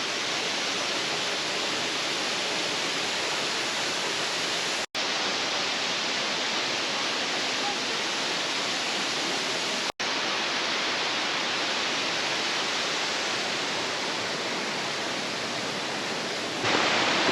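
Huibang Falls on Sobaeksan mountain in Korea pours with a steady, loud broadband roar of rushing water, heard up close and unbroken apart from two momentary cuts, with no voices.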